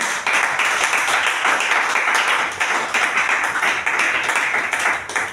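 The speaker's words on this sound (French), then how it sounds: "Est-ce qu'on peut acclamer très fortement?" A church congregation claps and cheers loudly together, a dense, continuous wash of applause that surges in waves and holds steady throughout.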